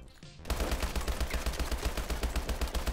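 A rapid automatic burst of gunfire, likely from an AK-12, in Advanced Warfare starts after a short quiet moment. It hammers on loud and close for over two seconds with no break.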